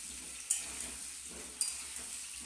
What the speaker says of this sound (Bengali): আলুটাকে আগে ভালো করে ভেজে নিচ্ছি